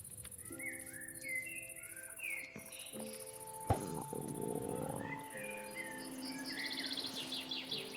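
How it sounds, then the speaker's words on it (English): A finch singing in the Minecraft game, bright chirping phrases repeating over a steady backdrop of insect-like trills and ambient game sounds, moderately faint. "Finch."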